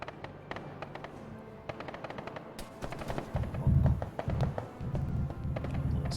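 A .50 caliber machine gun fires in Arma 3 as rapid bursts of sharp cracks, followed by heavier booming thuds of impacts and distant battle noise, fairly loud and alone.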